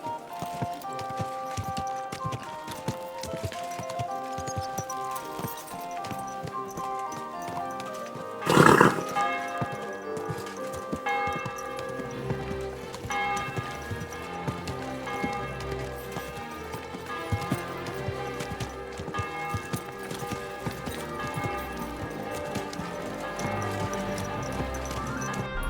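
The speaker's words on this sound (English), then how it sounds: "Easy, good horse." Horse hooves clip-clop at a steady walking pace on a town street in Kingdom Come Deliverance II, continuing for a long stretch amid tonal bell-like ambience, with one brief louder burst partway through.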